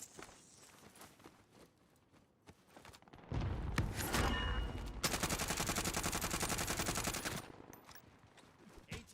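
Gunfire in a military shooter video game: quieter footsteps and clatter give way to a loud sustained volley of rapid automatic shots lasting several seconds, then fading back down.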